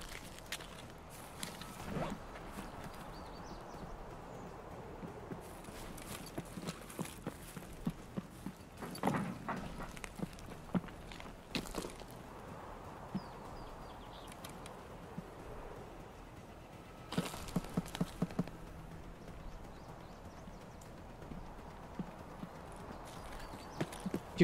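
An enemy player runs in Escape from Tarkov, producing quick, repeated footfalls that continue throughout at moderate loudness over steady in-game ambience.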